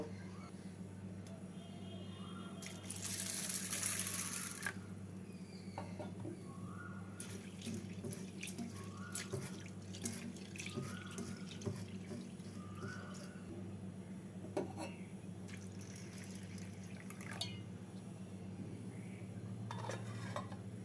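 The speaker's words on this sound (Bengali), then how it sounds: "পঞ্চাশ গ্রাম ছোলার ডাল পঞ্চাশ গ্রাম মটরের ডাল দুটোকে একসঙ্গে ভালো করে ধুয়ে এক ঘন্টা ভিজিয়ে রেখে দেব" Chana and matar dal are rinsed together under a running tap, with a loud gush of water early on followed by quieter swishing, splashing and bowl clinks nearby.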